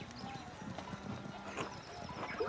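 Horse hooves clip-clopping in the Pentiment video game, faint and irregular, with soft scattered hoof beats in a quiet scene.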